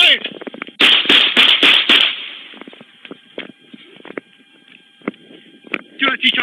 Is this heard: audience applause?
no